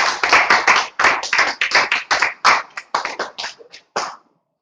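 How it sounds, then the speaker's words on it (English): An audience claps to welcome a speaker to the floor at a training gathering, giving a loud, close round of applause in uneven bursts that trails off after about four seconds. "Listen for the hand claps."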